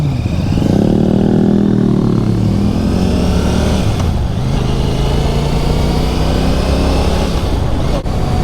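Royal Enfield Classic 650 motorcycle accelerating through the gears, its engine loud and close with rising revs and smooth shifts, steady throughout with no talk.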